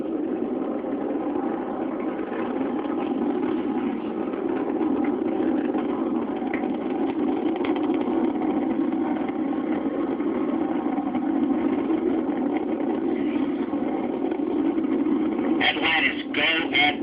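Steady, muffled roar of the Space Shuttle Atlantis main engines during the final shuttle launch in 2011, a continuous low rumble heard through band-limited broadcast audio, with a brief crackle near the end.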